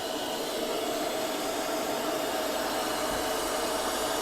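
A vacuum pump pulls vacuum on the cooling system of a Subaru B9 Tribeca during thermostat replacement, giving a loud, steady mechanical whir and hiss without pause.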